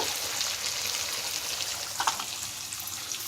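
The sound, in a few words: asafoetida sizzling in frying oil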